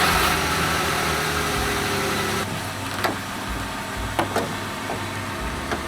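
A car engine idles steadily to warm the oil before an oil change, holding a continuous mid-low hum for about six seconds with a few faint clicks and knocks.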